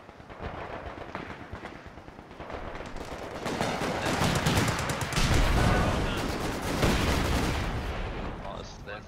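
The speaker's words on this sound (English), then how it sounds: "Oh, and I'm constantly dropping mortars." Mortar rounds and gunfire boom and crackle through a battle in the video game Company of Heroes 2, loud and dense, building to heavy impacts midway, with faint voices underneath.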